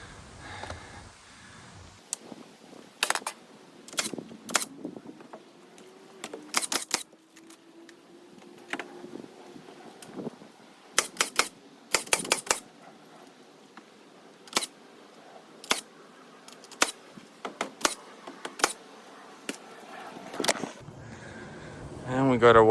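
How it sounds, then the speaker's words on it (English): Hammer strikes nailing together a pressure-treated wood wall frame for a DIY greenhouse, sharp isolated bangs coming in irregular clusters with quiet gaps between, close and loud against a still background. "Make sure it's all level and just nail it together."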